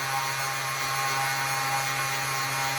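A 30-year-old Dremel rotary tool spins at its lowest speed while drilling a labradorite cabochon, giving a steady, even whine with a constant hum underneath, close and unbroken throughout.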